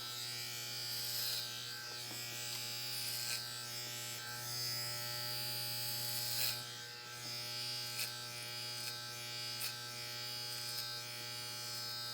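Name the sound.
electric hair clipper cutting hair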